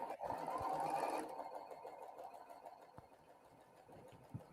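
Sewing machine stitching scrappy quilt pieces placed right sides together with a quarter-inch seam, a steady close whir of about a second, then a faint tail, with quiet talk in the background.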